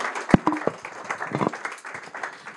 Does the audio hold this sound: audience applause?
yes